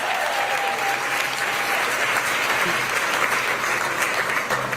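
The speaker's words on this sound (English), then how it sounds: "Let's give them all a big round of applause." An audience at a live event gives a big round of applause for the stagehands and crew, a dense, sustained clapping that fills the whole stretch, with some voices faintly underneath.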